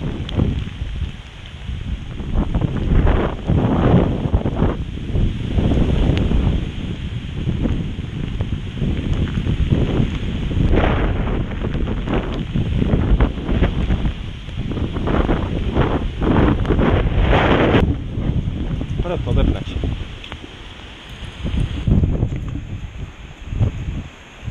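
Strong, roaring wind of Hurricane Irma buffets the microphone in continuous gusts, loud and unbroken, with no voices.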